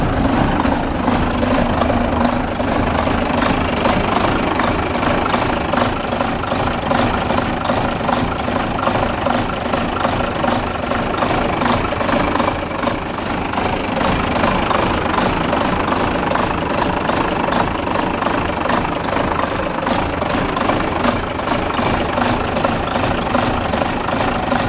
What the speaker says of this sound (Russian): Видите, вот после ремонта форсунок, как двигатель работает устойчиво, тихо, спокойно.